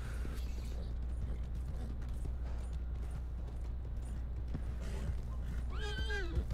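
A horse neighs in Red Dead Online, a short whinny rising and falling near the end over a steady low ambient hum and faint clip-clop and creaking sounds.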